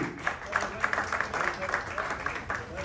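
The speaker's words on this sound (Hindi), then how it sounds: "लेडीज एंड जोरदार तालियां।" Concert audience in Dubai applauding, a moderate, steady spread of clapping with individual claps standing out, recorded at a distance.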